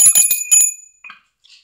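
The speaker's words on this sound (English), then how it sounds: "I'm going to ring my little bell." Small hand bell rung in a few quick, bright strikes, loud and close, followed by two fainter, shorter rings that trail off into silence.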